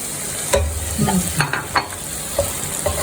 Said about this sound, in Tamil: இதை இப்போ நல்லா வதக்க போகிறேன்